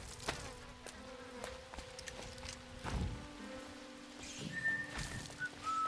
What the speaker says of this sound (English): Who's fucking whistling?